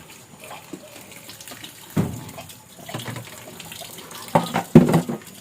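Strong water running from a tap, splashing in uneven bursts with louder surges near the end, fairly close and with no talking.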